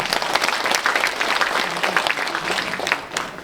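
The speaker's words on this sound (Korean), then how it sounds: "박수 부탁드립니다." Audience applause fills the hall at a joint campaign speech event for Iksan mayoral candidates at Wonkwang University's 60th anniversary memorial hall, steady and dense throughout, with no talk over it.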